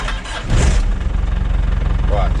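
A 6x6 ambulance engine, its ignition switch faulty, turns over and catches at about half a second, then settles into a loud, steady low rumble that continues under a voice.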